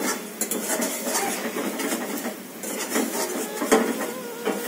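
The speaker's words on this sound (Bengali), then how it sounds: "মাংসের মশলা এখন কষানো হচ্ছে" Meat masala being sautéed in a pot, with repeated metal spoon clatters and scrapes against the pot over a continuous frying noise, close and fairly loud.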